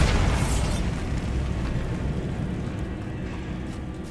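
A Bombarda blasting spell explodes in Hogwarts Legacy with a loud, close boom that rolls into a long rumbling, crackling decay, with no talking.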